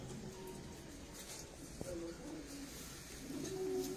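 Pigeons coo softly in a breeder's loft, low repeated calls rising faintly over a steady background murmur, with no one speaking.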